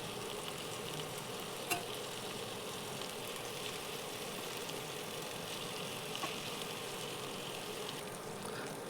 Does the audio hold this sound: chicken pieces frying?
yes